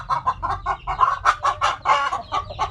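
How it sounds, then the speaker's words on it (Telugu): Frightened farmyard chickens near a house, clucking and squawking at a monkey in a rapid, agitated series of sharp calls, close and clear with no talking. "కోళ్ళు కోతిని చూసి బెదురుతున్నాయి."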